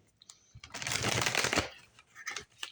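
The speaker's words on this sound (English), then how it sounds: "Just give them another shuffle and see what's happening there." A very large Wild Unknown Archetypes tarot deck being shuffled by hand, giving a dense papery riffling burst of about a second, close and clear, with a few lighter card flicks before and after.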